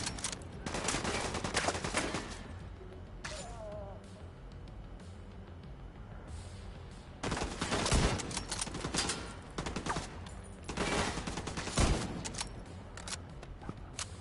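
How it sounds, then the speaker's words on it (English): A sniper rifle firing incendiary rounds in The Division 2, heard as sharp, loud gunshot bursts in clusters with quieter stretches of game ambience between them. "Incendiary ammo on a sniper rifle is a beautiful thing."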